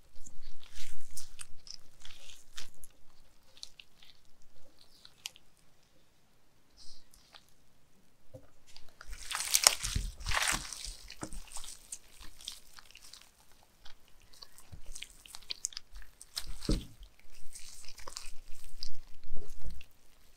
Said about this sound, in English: All right, so our pork's all rested. Now it's time to pull it apart.